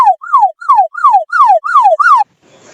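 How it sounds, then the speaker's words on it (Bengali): A mobile phone's anti-theft alarm goes off the moment its charger is unplugged, sounding loud and close as a run of seven rapid, falling whooping tones before cutting out into faint background noise. "চার্জার খুলে কিন্তু সাথে সাথে অ্যালার্ম বেজে উঠবে"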